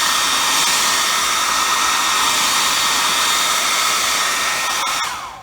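A hair dryer blows with a loud, steady whooshing roar that cuts off abruptly at the end.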